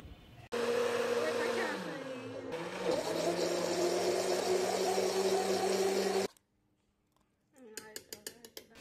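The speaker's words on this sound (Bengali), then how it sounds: "এই যে হালকা গরম উষ্ণ গরম দুধ দিয়ে এবার ব্লেন্ডারে ব্লেন্ড করে নেবো আমি।" An electric blender whirs loudly, blending vanilla ice cream with warm milk for a sherbet. The motor drops in pitch briefly, runs steadily for several seconds, then stops, followed by a few light clicks.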